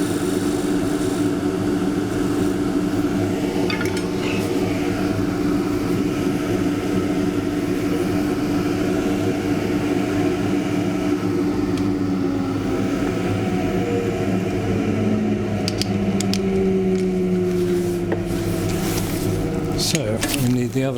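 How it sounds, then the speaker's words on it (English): Ash dish turning on a wood lathe, with a gouge held on its side taking a fine cut on dry ash; a steady, loud motor drone and cutting rush carry through the whole stretch with no break. "I'm just going to come in again with the gouge"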